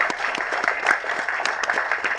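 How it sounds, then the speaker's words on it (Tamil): Audience at a Tamil film audio launch event applauding, a steady wash of many hands clapping, fairly loud and continuous with no speech over it. "ஒரு கைத்தட்டல் கொடுக்கலாமே"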